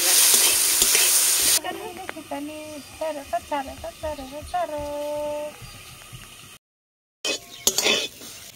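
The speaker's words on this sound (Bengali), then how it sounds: "বিনে হালকা করে একটু লবণ দিয়ে দেব, আবার নাড়াচাড়া করতে হবে" Salted beans fry in a wok while a utensil scrapes and stirs them, a loud sizzle opening into clinks and scrapes with someone talking over the cooking, then a brief silence and more stirring.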